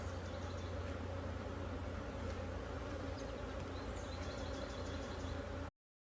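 Honey bees buzz in a dense, steady drone during a hive inspection, close and continuous until the sound cuts off abruptly.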